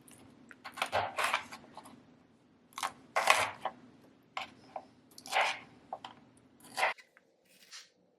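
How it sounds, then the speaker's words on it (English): A knife cuts cauliflower into chunks on a board, giving a series of close, crisp crunching and snapping cuts in irregular bursts with short pauses between them. "So just going to cut some chunks here."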